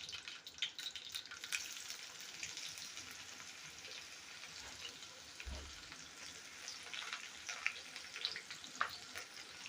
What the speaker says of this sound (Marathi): कढीपत्ता घेतला आहे तो टाकते आणि हा कांदा टाकून घेते